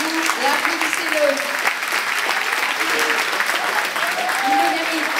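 A crowd at a judo club's end-of-season general assembly applauds its first French champion, with sustained, lively clapping while voices speak and call out beneath it.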